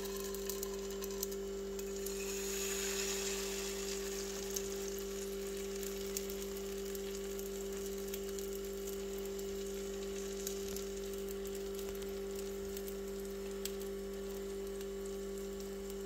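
Pancake batter frying in a hot oiled pan, a soft continuous sizzle over a steady low electrical hum, faint and without speech.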